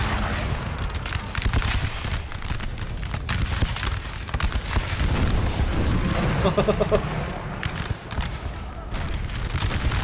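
Six-pounder cannon artillery in the Napoleon: Total War game thunders in a constant battle din of booms and musket fusillades, loud and dense throughout with brief crackling volleys layered on top.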